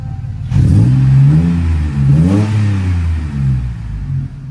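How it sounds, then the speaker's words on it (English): A Jeep KJ engine fitted with a new exhaust and two extra small silencer boxes starts and revs up and down twice, a loud, close, throaty drone that settles back to idle, with no talk. "first start after the new exhaust has been fitted"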